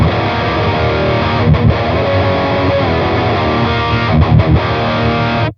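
Distorted electric guitar runs through an ENGL Steve Morse Signature 20 lunchbox amp with gain at three o'clock and mid EQ, giving a dark, thick lead tone in sustained chords and notes with brief gaps, loud and alone.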